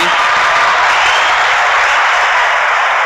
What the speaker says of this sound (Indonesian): tepuk tangan untuk Nalar TV